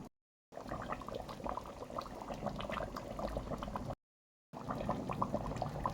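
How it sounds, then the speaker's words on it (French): Akpi fish sauce bubbles and simmers steadily in a pot, a continuous close wet crackle of small popping bubbles with two brief silent gaps. "je laisse la sauce continuer à cuire et elle sera prête dans quelques instants"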